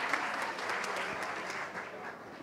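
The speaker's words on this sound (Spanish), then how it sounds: "Un aplauso para Angel." Applause at a conference, a fairly faint, steady clapping from an audience lasting a couple of seconds.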